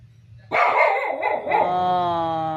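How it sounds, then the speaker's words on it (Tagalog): A dog lets out a few sharp barks that stretch into a long, rising howl, loud and close, with no voices. "may tumatahol doon si Yami"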